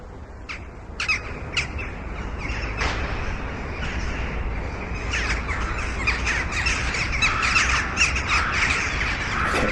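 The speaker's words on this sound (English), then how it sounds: "if you can hear those same birds and crows making sounds, singing" Crows and other birds calling in a city park in Kyiv: repeated harsh squawks and caws from several birds at middle distance, with chirps building toward the end over a steady low background hum.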